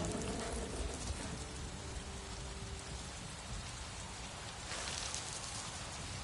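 Steady rainfall on the alien jungle world of Avatar Frontiers of Pandora, a dense hiss of drops pattering on foliage and ground, even and enveloping, with a slight swell near the end.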